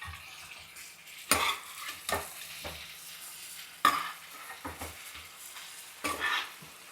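Boiled chicken pieces are stirred into frying onions in a pot for a pressure cooker chicken biryani: a low sizzle runs throughout, broken by several sharp metal spoon scrapes and clinks against the pan.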